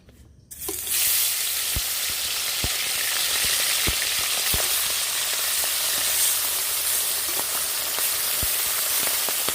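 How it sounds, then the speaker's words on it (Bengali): Bata fish hit hot oil in a wok and set off a loud, continuous sizzle after a brief quiet start, with a few sharp pops and clicks scattered through the frying. "মাছগুলো ভেজে নিচ্ছি কড়াই গরম হয়ে গেছে তেল দিয়ে দিচ্ছি"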